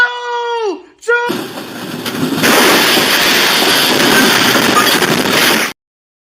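A train sound effect: a short, falling whistle-like tone, then a loud, steady hissing rumble that runs for several seconds and cuts off abruptly.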